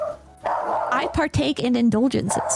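A dog barks a few times in the background while a person talks continuously over it, the barks partly masked by the voice.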